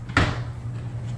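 A hidden pantry cupboard door in a kitchen opens with one sharp knock-like thud, followed by a quiet low hum.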